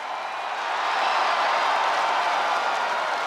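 A wrestling arena crowd at a SmackDown event roars and claps in a dense, steady wash of cheering that swells slightly after the first moment and holds loud without a break.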